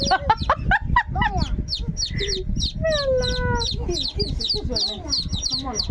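Chickens cluck and chatter up close in a rapid run of calls, with one drawn-out squawk in the middle, while people talk over them.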